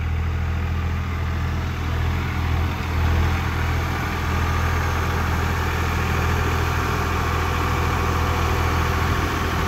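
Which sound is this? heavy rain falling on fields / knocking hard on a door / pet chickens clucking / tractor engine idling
tractor engine idling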